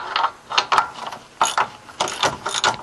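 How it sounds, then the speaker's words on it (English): A hand ratchet turns out a bolt on the front control arm of a BMW E46 325i. Close, loud, quick clicking comes in several short rapid bursts separated by brief pauses, and no one speaks. "We'll take this bolt out."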